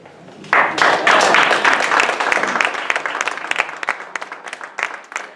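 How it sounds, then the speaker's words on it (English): An audience at a celebration of African American poets breaks into loud, sustained applause after a recited poem, a dense burst of clapping that begins abruptly and slowly thins out. "his poem was met with applause"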